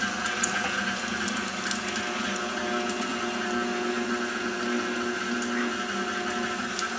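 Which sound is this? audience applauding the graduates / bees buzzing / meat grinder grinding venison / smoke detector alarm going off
meat grinder grinding venison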